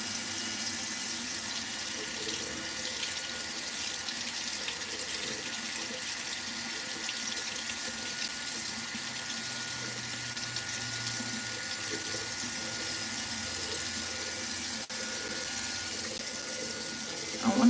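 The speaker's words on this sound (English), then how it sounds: "You run it under some warm water." Warm water from a tap runs steadily over a plastic spray bottle, a continuous hissing splash that holds at an even level throughout with no voices.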